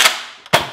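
A Fortnite-themed Nerf toy blaster fires at close range, giving two sharp snapping pops a half second apart with no talking.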